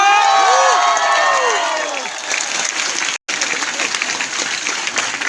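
Loud, sustained applause from an event audience welcoming the company directors, with a crowd cheering and whooping over it; it drops out briefly near the middle, then continues steadily.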